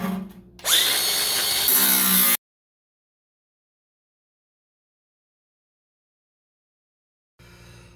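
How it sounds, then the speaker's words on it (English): An angle grinder cuts metal dryer vent duct with a loud, close, high-pitched whine for about two seconds, then falls silent and is followed by a brief quiet rustle. "I'm going to cut this down with the grinder"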